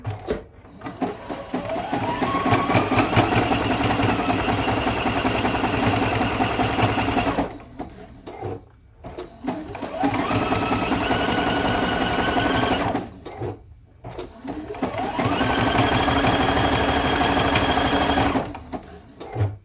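A sewing machine stitching appliqué petals around curves on a quilt block, running in three long continuous whirring bursts with short pauses between them, close and clear.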